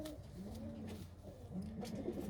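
A racing pigeon coos in soft, repeated throaty rolls, two or three phrases close by, with faint background noise.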